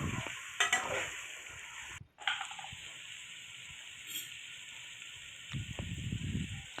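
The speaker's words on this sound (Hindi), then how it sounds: "अब हम इसके अंदर 2 चम्मच अदरक लहसुन का पेस्ट शामिल करके इसको इसके अंदर अच्छे तरीके से मिक्स कर लेंगे" A spoon stirs and scrapes ginger-garlic paste around a pan over a soft sizzle, with a few clinks and knocks and no talking.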